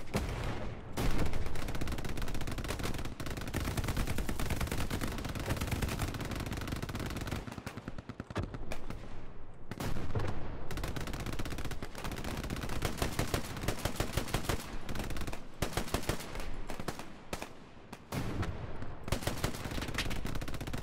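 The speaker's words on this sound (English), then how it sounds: "That MG. I need him to stop firing." A D-Day battle in a video game roars with sustained machine-gun fire, dense rapid bursts that run almost without a break for about twenty seconds and drop briefly only a few times.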